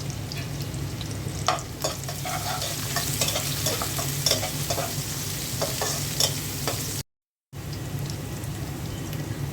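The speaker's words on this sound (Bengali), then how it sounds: "তেল দিয়ে দিচ্ছি দিয়ে দিচ্ছি পেঁয়াজ কুচি গরম মশলা দিয়ে দিলাম" Chopped onion and garam masala sizzle steadily in hot oil for khichuri, a continuous crackling hiss with scattered spatters and stirring scrapes and a brief gap of silence near the end.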